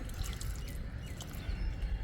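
Water is poured onto a potted oleander cutting on a rooftop terrace, giving a soft, continuous splashing trickle that stays faint and even throughout, with no voices.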